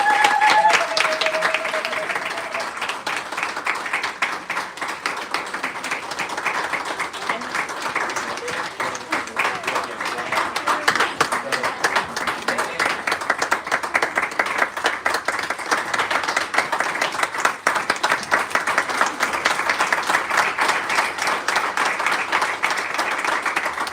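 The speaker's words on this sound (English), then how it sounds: "Big applause for Lily." A university audience in Madrid applauds, with sustained, dense clapping that continues steadily throughout at a moderate distance.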